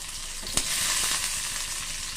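Garlic and onion fry in a pan for a pepper and broad bean curry, giving a steady close hiss and crackle. A brief louder pop cuts through near the start, and there is no speech.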